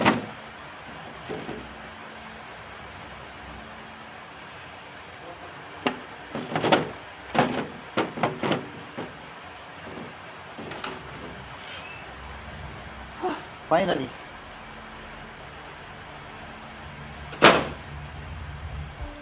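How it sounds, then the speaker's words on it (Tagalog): Several sharp bangs and rattles of a stuck house door being forced, with a broken lock, come in irregular bursts, loudest near the middle and one hard knock toward the end, over a low background and a brief spoken word. "Bakit hindi magbukas-bukas tong pinto?"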